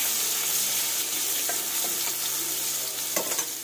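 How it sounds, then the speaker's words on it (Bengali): Tamarind frying in a kadai with turmeric and a little salt, giving a steady, close sizzle with soft scraping stirs and a few sharper crackles toward the end. "হলুদ, অল্প পরিমাণে লবণ দিয়ে এটাকে বেশ সুন্দরভাবে লাল লাল করে ভেজে নেব।"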